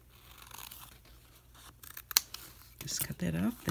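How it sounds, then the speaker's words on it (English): Scissors snip through napkin paper at a craft table, a couple of crisp, close cuts near the end, with a voice talking over them. "And just take our scissors."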